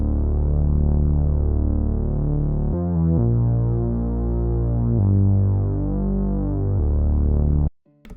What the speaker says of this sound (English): I then added this bass and Analog Lab. It is the Dark Drone synth bass.